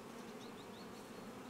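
A steady mass of honey bees hums at an opened beehive, a dense continuous buzz close by with faint whining wingbeats passing over it.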